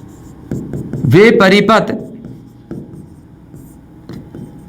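Pen or marker strokes scratch across a board in a classroom, a few short scraping bursts and taps near the mic, with someone speaking briefly in between.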